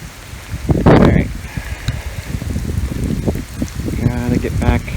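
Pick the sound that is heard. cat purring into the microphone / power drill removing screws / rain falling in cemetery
rain falling in cemetery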